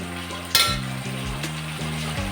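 Chillies are stir-fried with crushed peanuts in a pan for dahi mirchi, making a steady sizzle with scraping stirs and a sharp clink of a utensil against the pan.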